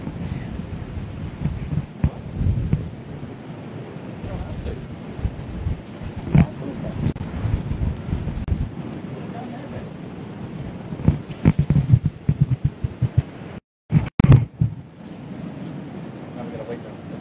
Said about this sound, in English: I'm going to wait until the rain is finished.